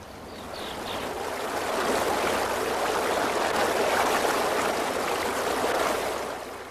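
A stream of running water flows steadily, a broad even rush that swells in over the first seconds, holds at a constant level, then eases slightly at the end, with no voices.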